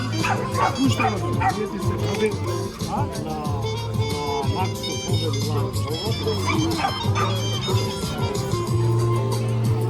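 A Macedonian shepherd dog barks and yips repeatedly at a dog show, close and loud, with whimpering notes and voices talking underneath.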